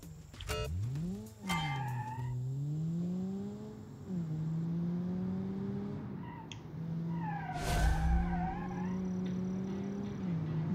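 An inline-four minivan drives on a test track, its engine note rising and falling as it accelerates and eases off, with a brief tire squeal and a steady road drone.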